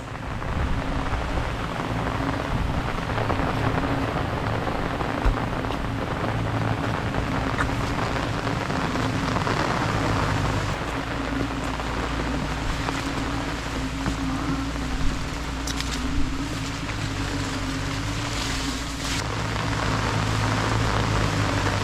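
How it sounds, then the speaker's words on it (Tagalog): Steady rain pours down on a home garden during the rainy season, a dense, continuous hiss with occasional heavier splashes, loud and close throughout with no voices. "talagang ilang oras nang walang hinto itong ulan na to."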